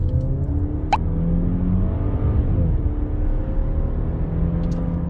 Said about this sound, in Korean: 여기서 엑셀을 쫙 밟아보겠습니다.